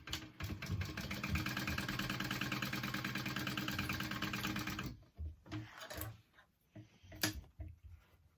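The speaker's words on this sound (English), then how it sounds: "You're folding it in half, and we're going to top stitch it right there." A sewing machine runs steadily for about five seconds, top stitching a folded pocket piece for a Zip N' Go bag, then stops, leaving scattered handling clicks and knocks.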